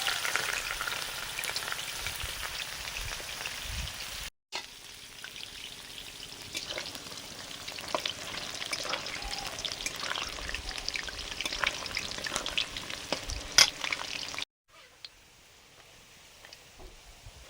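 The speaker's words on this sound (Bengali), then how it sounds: "সবজিগুলো যেগুলো কেটেছিল, বিনস, গাজর আর ক্যাপসিকাম, এগুলো ভাজছি" Chopped carrots, beans and capsicum fry in a pan, with a dense, steady crackling sizzle and scattered stirring scrapes, close up, briefly cut off twice before it returns much quieter.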